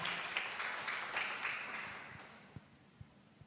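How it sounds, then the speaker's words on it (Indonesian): Audience applause for PT Melia Sejahtera at a sales training session: a crowd clapping densely for a couple of seconds, then thinning into a few scattered, separate claps as it fades. "Beri aplaus buat PT Melia Sejahtera."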